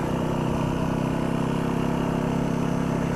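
A dirt bike engine runs steadily and close, with a constant low rumble throughout and no voices.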